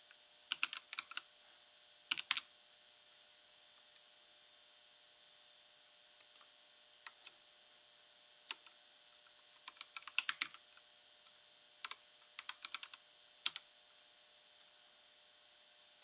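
Someone types on a computer keyboard while setting up a Linux Mint install, producing short bursts of crisp key clicks separated by pauses over quiet hum, close and fairly faint.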